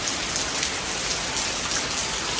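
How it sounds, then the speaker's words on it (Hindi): Steady rain pours down in Manali during a flash flood, a dense, even hiss of falling water with no letup and no voices. "अभी भी हो रही है बारिश"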